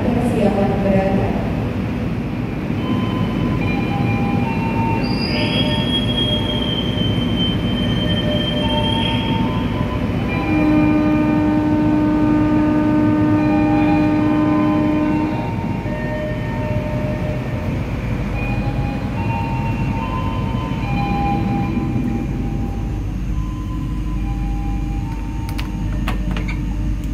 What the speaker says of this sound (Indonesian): Dari jalur 1 kereta api Sanjata Utara persiapan berangkat.